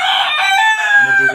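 A rooster crows once, loud and close, in a long drawn-out call from a rooftop chicken farm with caged tiger-breed fowl.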